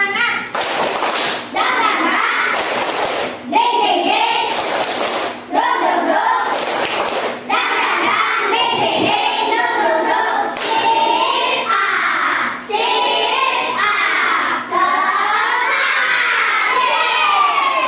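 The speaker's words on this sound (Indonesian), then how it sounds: "Coba kita tepuk semangat ya." A class of schoolchildren claps out a rhythmic spirit chant (tepuk semangat), bursts of clapping alternating with shouted chant lines from the whole group, loud and close, with a teacher's voice leading between them.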